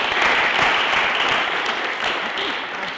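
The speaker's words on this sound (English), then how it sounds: "And give yourselves a round of applause." Workshop participants in a Shakespeare workshop on A Midsummer Night's Dream applaud themselves with dense, steady clapping that fills the whole clip at a constant loud level.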